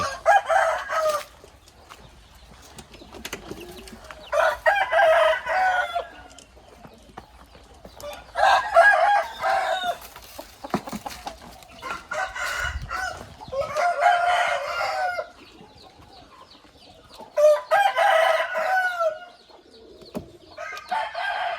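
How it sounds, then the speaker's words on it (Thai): Young chickens crow in a series of rough, repeated cock-a-doodle calls several seconds apart, with softer clucking and scratching between them, nearby and without talk. "มาดู ไก่ เล็กๆพวกนี้ที่มันกำลังขึ้น"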